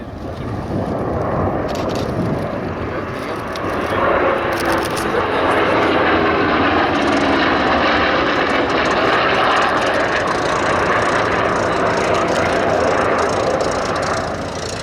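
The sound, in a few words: piston-engine aircraft flying at an airshow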